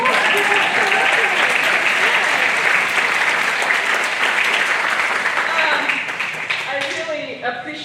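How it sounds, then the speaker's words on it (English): An audience at a West Seattle town hall claps loudly and steadily for several seconds, the applause close and full before fading as voices emerge near the end. "Let's give a big round of applause."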